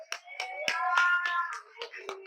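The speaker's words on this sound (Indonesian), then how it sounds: "Oke, tepuk tangan buat Gaza." A few children clap for a classmate in a classroom, several scattered hand claps mixed with overlapping children's voices and chatter, close and moderately loud.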